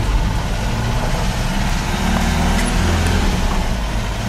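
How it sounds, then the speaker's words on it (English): A Mazda B2200 pickup truck's engine idles a bit fast, a steady close low rumble with no breaks. The engine has possible exhaust leaks and some unusual noises. "It's still idling a little bit fast."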